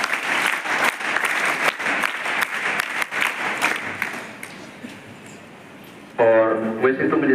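Sharp, crowded clapping from students at a school morning assembly at JNV Harda, loud at first and thinning over several seconds before a voice starts speaking close by.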